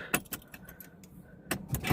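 Keys jangle and clink in several short bursts inside a Daimler car, quiet and close, with pauses between the rattles.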